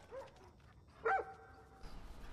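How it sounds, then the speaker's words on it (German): Dogs in the game Far Cry New Dawn give one short bark, fairly close, over quiet background noise. "Ihr lauft, Hunde"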